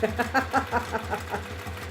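A sewing machine runs steadily, its needle thumping in a quick, even rhythm with a low mechanical hum underneath.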